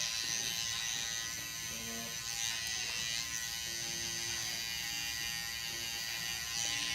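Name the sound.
electric hair trimmer lining up a neckline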